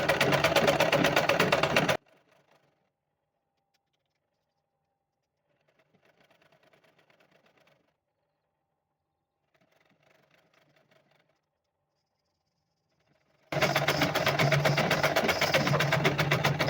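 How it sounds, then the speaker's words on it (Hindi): Sewing machine stitching the folded waistband casing of a Patiala salwar, heard as two loud, steady runs of rapid mechanical whirring with a near-silent gap between them. "चलिए हम आपको सिलाई करके दिखाते हैं।"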